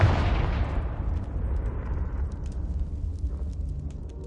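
Explosive Confringo spell blast in Hogwarts Legacy, a loud booming burst at the start that rumbles and decays over several seconds, with faint crackles trailing off.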